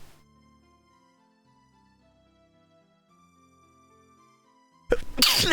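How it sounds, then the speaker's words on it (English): A single loud, close sneeze bursts out abruptly at the end after several seconds of quiet Ocarina of Time game music playing softly in the background. "I didn't mean to sneeze."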